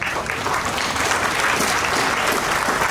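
Audience applause at a doctoral graduation ceremony at Bugando University, a dense, steady clapping from a large crowd that fills the whole stretch at an even loudness.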